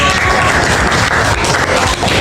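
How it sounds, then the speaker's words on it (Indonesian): Audience applause at a school event presenting a book of student writing, a dense, steady wash of many hands clapping that holds at full level for the whole stretch, with no voices standing out above it. "Tepuk tangan"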